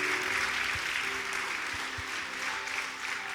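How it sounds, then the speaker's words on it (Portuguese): Church congregation applauding during a Lord's Supper service, a steady broadband wash of clapping throughout with faint low hum underneath and no clear talk over it. "Pode aplaudir a Jesus."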